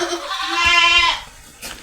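A single drawn-out, wavering bleat from a sheep close by, out grazing in the rain, followed by a soft rustle. No rain is clearly audible.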